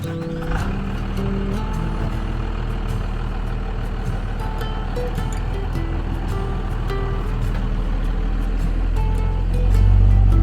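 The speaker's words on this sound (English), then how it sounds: "Driving through Independence Pass." A truck camper driving over Independence Pass in the Rockies, a steady loud engine and road rumble running throughout, swelling with a deeper low roar near the end.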